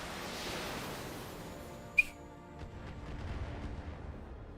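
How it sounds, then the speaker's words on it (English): Mortar fire in the BattleTech video game: a single sharp launch crack, followed by a rumbling, rolling boom that swells and lingers at moderate loudness. "All right, fire the mortars."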